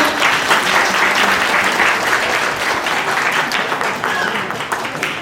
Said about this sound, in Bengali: তো ডাক্তারবাবুর জন্য একটা জোরে তালি হয়ে যাক